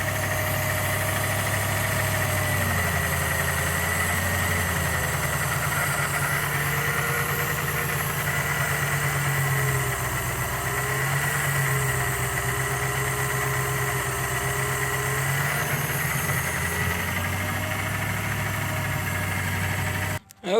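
A Lexus IS300 fitted with a swapped 1UZ V8 idles steadily nearby, a deep even rumble with a faint hum above it, holding the same note for about twenty seconds before cutting off abruptly at the end.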